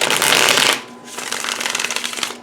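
Cards riffle quickly in a loud burst, pause briefly, then a longer run of rapid, fluttering shuffles continues nearby.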